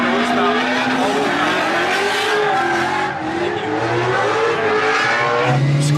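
A roughly 1,400-horsepower car with about 6,000 foot-pounds of torque revs loudly and steadily throughout, its engine note rising and falling close up, with hints of tire squeal.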